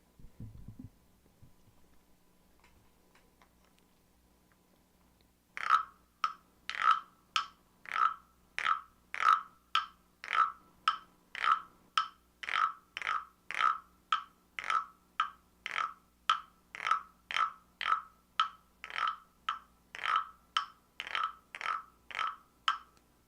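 A frog croaking sound during a harp stream: after a quiet start, about thirty short, evenly spaced croaks repeat in a steady rhythm. They are fairly faint and heard alone, with no talking.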